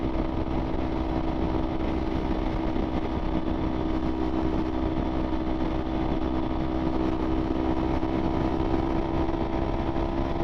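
A 2015 Kawasaki Ninja 300 holds steady at highway speed, about 75 mph and 8,500 RPM, its engine a constant dense drone with wind roar, loud and unbroken throughout with no change in pitch.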